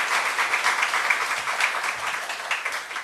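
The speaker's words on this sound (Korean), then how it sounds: "우리 찬양팀에게 한번 격려의 박수 한번 돌려주시면 좋겠습니다" A church congregation at a Sunday worship service applauds its worship team: a steady, dense wash of clapping from many hands that holds evenly throughout, fairly close and without any voices.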